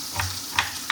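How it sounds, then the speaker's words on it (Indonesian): Shallots frying and being stirred in hot oil in a pan, a loud continuous sizzle up close with two quick scraping stirs partway through and another at the very end. "Bawang merahnya gongsong sampai harum ya guys."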